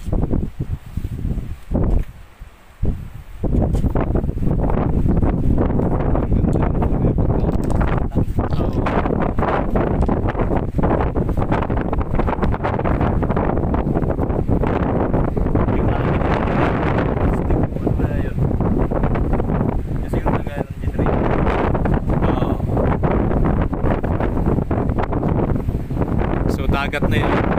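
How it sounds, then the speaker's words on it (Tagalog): Strong sea wind at a hilltop abandoned palace building on an island buffets the microphone with loud, continuous rumbling gusts, while people talk faintly underneath. "Medyo mahangin nandito."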